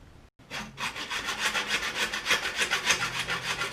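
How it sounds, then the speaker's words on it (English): A hacksaw cuts through a bicycle fork's steerer tube in steady, rapid back-and-forth strokes, loud and close, with a rasping metallic rhythm that runs without pause after a brief start. "I'm going to need to cut down the pipe"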